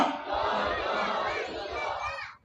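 Large crowd at an Independence Day religious gathering shouting a unison chant in answer to a slogan, a loud sustained roar of many voices that cuts off abruptly.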